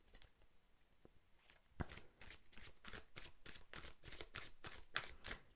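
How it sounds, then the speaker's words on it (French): Oracle cards are shuffled and drawn, with a quiet riffle followed by a quick run of soft, evenly spaced card flicks close to the microphone. "Alors, on tire une dernière carte."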